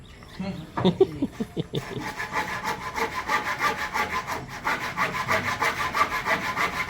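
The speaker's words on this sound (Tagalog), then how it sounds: "Ang dami na rin natrabaho ng lagari na yan" Rhythmic back-and-forth strokes of a hand saw biting into hard wood, steady and close, after a few brief scraping pulls at the start.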